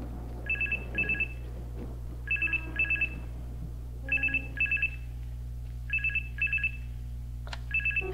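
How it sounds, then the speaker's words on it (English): Electronic telephone ringing in The Charnel House Trilogy, a point-and-click video game: clear trilling double rings repeating steadily about every second and a half over a low constant hum, with no talk. "Phone's ringing."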